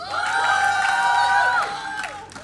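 A large crowd at a League of Legends esports finals cheers and whoops loudly in a sustained swell with high shouted voices, then it fades away toward the end.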